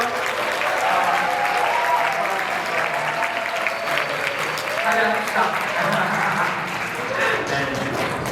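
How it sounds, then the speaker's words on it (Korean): Sustained applause and crowd noise from teenagers at a church youth winter retreat, clapping for the group leaders, loud and continuous with voices mixed in. "우리 조장들한테 박수 한번 할까요?"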